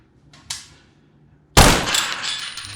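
A SIG MCX rifle fires outdoors: a faint sharp crack early on, then one loud, close shot with a long ringing decay trailing off across the range.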